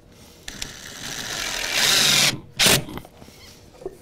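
A power drill drives a screw into a shed's storm door: a short rising whir builds for about two seconds, stops, then a brief second burst follows, loud and close, with faint clatter around it.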